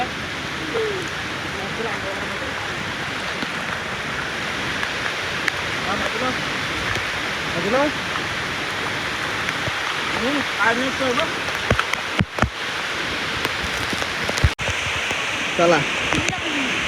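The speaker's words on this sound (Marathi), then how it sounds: "पाऊस बघा किती पडतय" Heavy monsoon rain pours over open farm fields during rice transplanting, a dense, unbroken hiss with a few sharp knocks on nearby surfaces. Voices come through now and then beneath the downpour.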